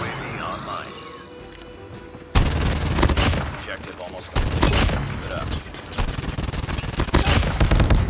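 Rapid bursts of gunfire from the QQ9 Dual Kinetics submachine gun in a mobile shooter game, loud and dense in several volleys after a quieter opening, with someone talking over parts of it.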